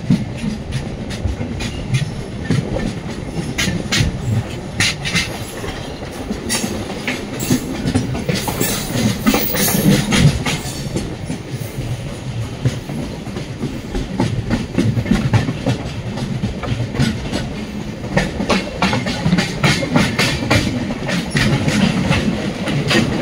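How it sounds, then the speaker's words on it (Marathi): An AC special passenger train pulls out of Sawantwadi station, its wheels giving a steady rumble and rhythmic clickety-clack over the rails throughout, loud and close, with no voices. "आपली AC स्पेशल ट्रेन सुटलेली आहे सावंतवाडी स्थानकातून."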